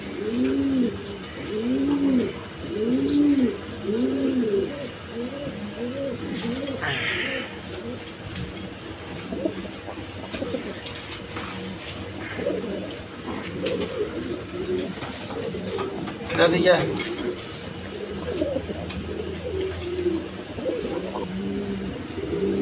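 Big American Fantail pigeons with umbrella-like tails coo in a rhythmic run of throaty notes early on, then keep calling more loosely under a murmur of background noise and a distant car.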